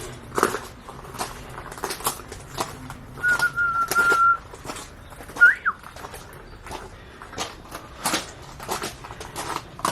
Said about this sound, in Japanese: 鳴き方が下手くそなウグイスがいます。